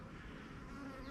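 Honeybees buzz around frames pulled from a hive of Martin queen colonies. The hum is soft, steady and brief, with no other sound over it.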